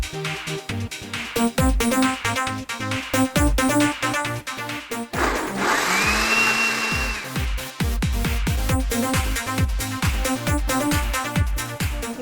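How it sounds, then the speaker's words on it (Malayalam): Mixer grinder motor whirs steadily for about two seconds, chopping soaked chickpeas with onion, garlic and herbs, set between stretches of loud rhythmic music; the motor tone rises and holds before stopping. "നമുക്കിത് എന്നിട്ട് മിക്സിയിൽ ഫൈൻ ചോപ്പായിട്ട് ചോപ്പ് ചെയ്തെടുക്കാം."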